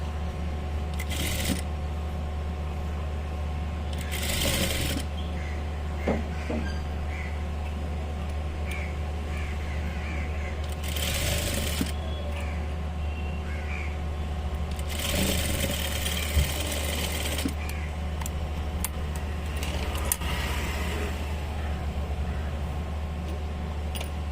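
A sewing machine stitches a fold seam on a gathered petticoat, giving a steady low mechanical drone with several bursts of faster, louder running spread across the span.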